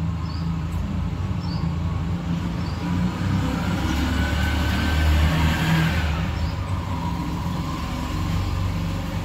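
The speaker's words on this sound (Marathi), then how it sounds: "रिक्षाचा आवाज येईल म्हणून स्टॉप झाले होते" Auto rickshaw passing on a street below a balcony in the early morning, a moderate engine drone rising and fading as it goes by, with faint bird chirps over the steady traffic hum.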